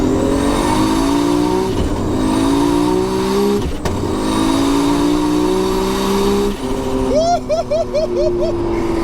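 A 1200 bhp sequential Nissan Skyline R34 GTR making a full-throttle pull in second gear from inside the car, engine whine rising loudly and steadily with gear changes, ending in sharp rapid pops, with voices over it.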